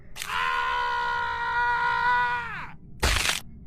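A man screaming as he falls from a fifth-floor balcony: a long, loud cry that bends downward and cuts off, followed by a sudden crashing impact.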